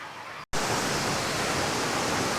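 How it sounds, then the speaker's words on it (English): A small waterfall in Thailand gives a steady, loud, hissing roar of falling water that fills the whole clip, interrupted only by a split-second dropout near the start. "you can hear the fall in the background,"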